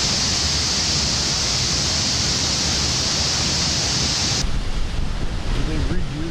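Heavy water deluge spraying over a rocket launch pad before liftoff, a loud continuous roaring hiss that shifts abruptly in tone near the end, with faint voices underneath.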